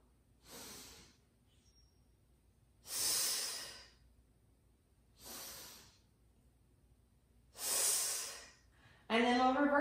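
Breathing during a mat flow exercise, four slow breath cycles with soft airy inhales and louder exhales, close and quiet with silence between them, then a voice briefly at the end.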